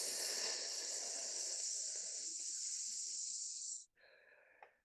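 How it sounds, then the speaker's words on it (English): A drawn-out breath is exhaled through the teeth as a long, steady hissing S lasting several seconds, then fades into a softer breathy hiss and quiet. "and exhale with an S."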